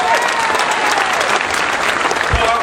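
Dense, steady applause from a political rally crowd on Réunion island, loud and continuous throughout with no pauses.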